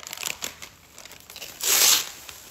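Cut polyethylene bags rustle and crinkle as sheets of pastila are layered onto them, soft intermittent crackles building to one loud, close crumpling burst near the end.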